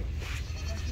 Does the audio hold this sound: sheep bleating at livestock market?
yes